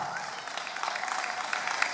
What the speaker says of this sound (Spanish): Aplaude patria gaucha